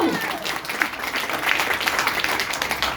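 An audience at a motivational seminar breaks into applause, a steady crowd-wide clatter of clapping heard from the floor, with some voices mixed in throughout.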